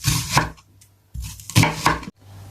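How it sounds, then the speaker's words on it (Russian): A kitchen knife cuts an onion into small cubes on a board for a honey cold remedy, in two quick bursts of crisp, close chopping strikes separated by a short pause. "Берем лук, нарезаем на кубики и перекладываем его в баночку."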